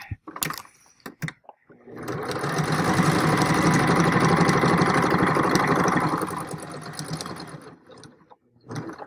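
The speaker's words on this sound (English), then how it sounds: "Let me go down one more stitch." A sewing machine stitching fabric runs in one steady whirring burst of about four seconds, close and loud, framed by a few clicks and handling noises before and after.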